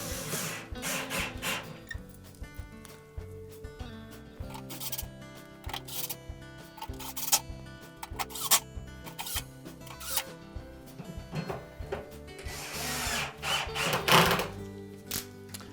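Screws being reinstalled into the inner tub base hub of a GE washer, with repeated zipping ratchet-like whirs, clicks and metallic clatter close by, varying in loudness, with a louder rush near the end.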